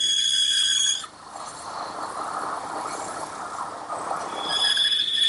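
A power tool cuts off a wooden screw or dowel plug during rocking chair construction in a woodshop, a steady mid-pitched grinding whine running for several seconds between louder, higher-pitched bursts at the start and end.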